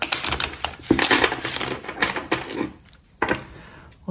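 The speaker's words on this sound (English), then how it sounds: "We'll do one more shuffle." A deck of tarot cards being shuffled by hand, giving dense papery riffles and crisp slaps in several bursts with a short pause near the end, up close.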